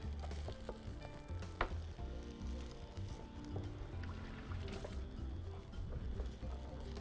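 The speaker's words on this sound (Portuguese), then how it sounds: "Minha cebola tá lá refogando" Onion sautéing in a pan with butter and spinach: a continuous close sizzle with scraping and stirring clatter throughout, plus a few sharper knocks of the utensil against the pan.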